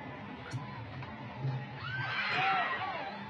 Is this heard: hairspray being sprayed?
no